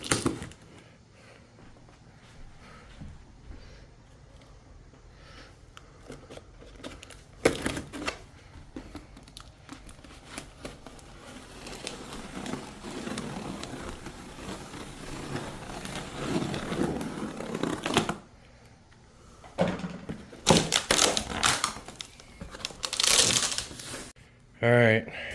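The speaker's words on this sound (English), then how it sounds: "about to unbox the TV" Unboxing of a 65-inch onn 4K UHD LED Roku smart TV, with cardboard, plastic and packing material rustling, crinkling and scraping in bursts that grow busier toward the end, while a person talks.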